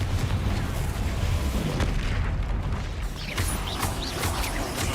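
Spell explosions in the Hogwarts Legacy video game, a continuous loud rumbling battle din with booming blasts and crashing impacts and no clear gaps.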